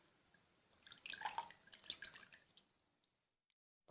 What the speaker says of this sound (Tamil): பாருங்கள், தண்ணியெல்லாம் புழிஞ்சு எடுத்தாச்சு.